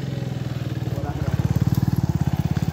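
A motorcycle engine close by as the bike is parked, idling with a steady putter that rises into a faster, louder rhythmic thumping, with voices talking in the background.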